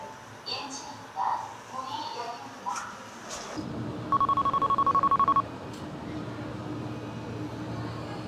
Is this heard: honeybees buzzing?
no